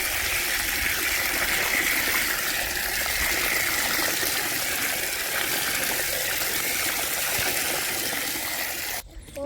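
Water runs steadily from a tap on a farm, a loud continuous gushing stream that holds even for several seconds and then cuts off abruptly at the very end, with no talk.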